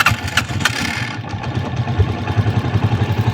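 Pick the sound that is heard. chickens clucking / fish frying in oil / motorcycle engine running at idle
motorcycle engine running at idle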